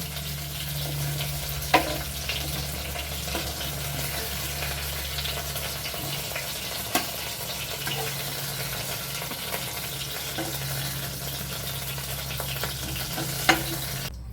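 Boal fish pieces fry in oil in a wok, a continuous close sizzle with a low steady hum beneath and a few sharp clacks as the fish is handled, no voices.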